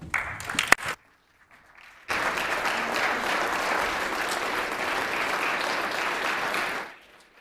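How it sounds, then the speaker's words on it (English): Members in a legislative chamber applaud in a steady, even wash of clapping lasting about five seconds, after a brief pause and a few isolated sounds, then cutting off abruptly. "I invite my colleagues to join me in applauding their achievements"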